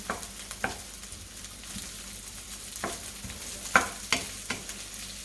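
Onions sautéing in a pan, a soft, fairly faint sizzle with intermittent scraping stirs and a few sharper utensil taps.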